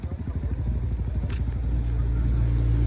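Boat engines of ships and powered fishing boats crossing under the new Pamban bridge, a steady low pulsing diesel throb that builds slightly and holds close and loud throughout.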